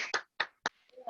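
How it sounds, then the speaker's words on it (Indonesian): A few people clap for a participant during a teacher-training simulation session, with three or four separate, close hand claps and a brief bit of voice at the end. "Kita memberikan tepuk tangan untuk Bapak Aron."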